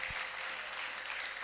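A church congregation at an evangelistic worship service breaks into full, continuous clapping, a thick, even wash of hands from a crowded room that holds steady without pause, with a single low thump near the start.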